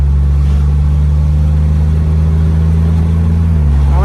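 Mazda MX-5 with a DCT gearbox and standalone GCU, engine droning loud and close from inside the car, a steady tonal hum with a slight pitch change near the end as it shifts.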